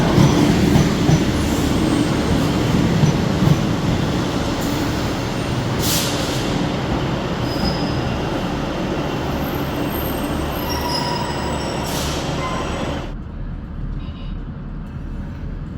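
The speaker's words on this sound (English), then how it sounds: "Welcome aboard this Northern train to Carlisle." On board a Northern passenger train running on the Tyne Valley line toward Carlisle, a loud continuous rumble of wheels with rhythmic clickety-clack and occasional squeals; the noise drops sharply to near quiet near the end.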